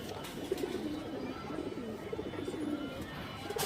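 A high-quality old-line garden pigeon (kabutar) coos repeatedly in a soft, rhythmic pattern over steady background noise, with no speech.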